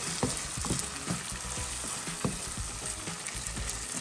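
Ground beef sizzles steadily in a pan as sauce is stirred in, a constant hiss of frying under repeated soft scraping strokes of the spoon, close and fairly quiet.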